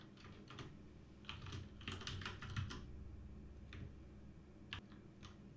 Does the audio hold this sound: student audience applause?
no